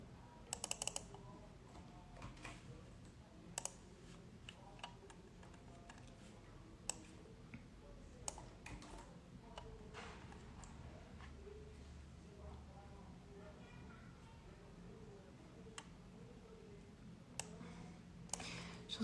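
Soft, irregular clicks of typing on a computer keyboard, faint and close in a quiet room, with scattered keystroke bursts and pauses and a low background hum.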